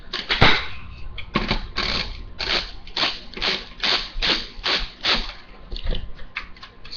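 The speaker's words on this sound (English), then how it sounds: "there's just a single screw that I'm taking off" A single long screw is backed out of an Xbox 360 console, a series of small clicking, ratcheting taps at an irregular pace, close and fairly quiet.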